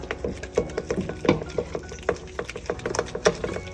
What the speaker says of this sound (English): just keep stirring vigorously until you see it all mixed in